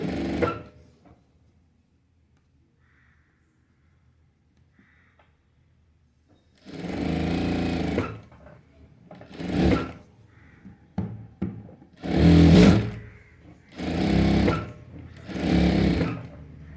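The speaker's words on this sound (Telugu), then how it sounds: "చక్కగా మనం స్టిచ్చింగ్ అనేది చేయొచ్చు అనమాట." A sewing machine stitches a blouse after a quiet stretch: several loud, close bursts of rapid mechanical whirring separated by short pauses, with no talk.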